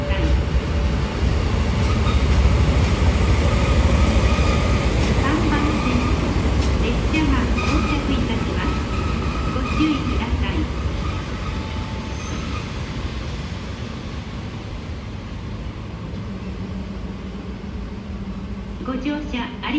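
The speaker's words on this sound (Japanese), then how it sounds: "3番線に列車が到着いたします。" A train pulls into platform 3 at Naebo station in Sapporo, a loud rumble of wheels with faint squeals and clatter that slowly eases as it slows, while a station announcement voice speaks over it.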